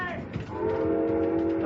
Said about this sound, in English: There's another train coming toward us.